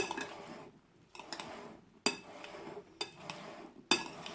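A spoon stirs a vegetable salad with corn in a bowl, making soft wet shuffling with several sharp clinks against the bowl at irregular intervals, fairly quiet and close.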